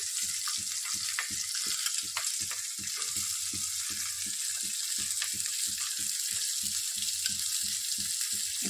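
Diced onion fries in a pan for masala noodles, giving a steady close sizzle with regular rhythmic stirring strokes throughout. No voices can be heard.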